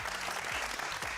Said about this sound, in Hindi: बिल्कुल अली सिकंदर के लिए तालियां.